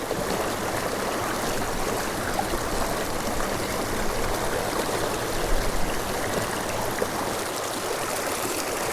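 A waterfall and stream on a wild trout river rush steadily with broadband, unbroken roar throughout, close and fairly loud with no voices.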